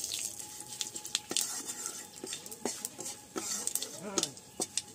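Bay leaf, whole cumin and dry red chilli hit a little hot oil in a pan, giving a soft, crackling sizzle. Repeated scrapes and clinks of the stirring spoon sound close by.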